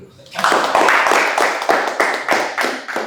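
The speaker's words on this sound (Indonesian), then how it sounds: "Berikan aplaus dulu." Audience applause at a fitness talk, a crowd clapping steadily and fairly loudly for about three seconds with regular rhythmic bursts.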